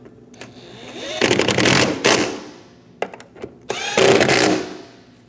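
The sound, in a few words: power tool snugging down fuel rail bolts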